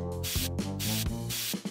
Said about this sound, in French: Oh, du spray à l'ail!